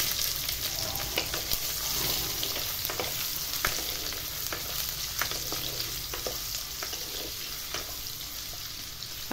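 Carrots and other vegetables frying in a hot pan: steady, dense sizzling and crackling close up, with occasional stirring scrapes and no talk.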